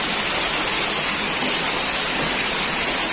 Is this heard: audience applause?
no